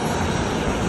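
A former private jet, now converted into an air ambulance for Ghana, gives a steady, close, broadband engine roar that holds evenly throughout, with no talking.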